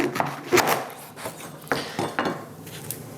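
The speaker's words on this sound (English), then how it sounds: "get your knife, go to the stalk, and find where the edge is here and cut about 1/4 of an inch up" A knife cutting into a corn cob near the stalk, giving a few short, close crunchy cuts and scrapes in quick succession.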